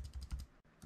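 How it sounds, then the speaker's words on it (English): Typing on a Logitech MX Keys keyboard produces a soft, quick run of close keystrokes in a steady rhythm, with a brief pause before the tapping picks up again. "It's a softer sound on the Logitech keyboard"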